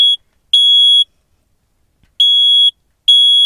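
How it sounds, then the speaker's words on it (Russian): A smoke detector sounds inside a homemade tent with a wood stove, giving loud piercing electronic beeps in irregular half-second bursts separated by silence, close and alone. "О, датчик дыма сработал."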